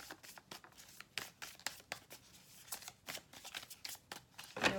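Tarot cards being shuffled by hand close up, a quiet run of papery riffles and slides in irregular bursts, each card flick crisp and brief, with no talking.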